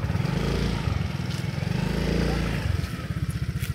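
A motorcycle engine idles and revs close by, its low, steady rumble putting along throughout, with people talking over it.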